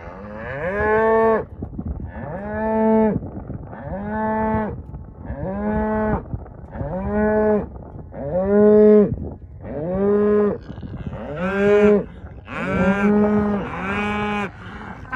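A herd of cows moos repeatedly, about ten long drawn-out calls in a steady sequence, fairly close and loud, some overlapping toward the end, with no talking.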